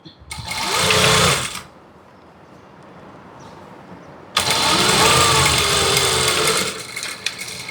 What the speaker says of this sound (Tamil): அதே அளவுக்கு நேராக தைச்சிட்டு பின்னை எடுத்துட்டு 2 ஸ்டிச்சு போடுறோம்